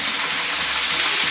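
Cumin seeds rinsed under running water in a milk strainer, a steady close hissing gush of water throughout with no pauses.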